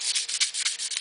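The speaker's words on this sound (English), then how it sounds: "I continue to sand in the same direction without cross sanding" Quick back-and-forth strokes of sandpaper rasp against stainless steel car trim, sanded by hand in one direction, in a steady rhythm, close and bright, with no talking.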